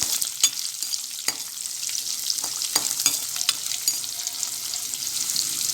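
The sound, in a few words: frying chopped shallots in oil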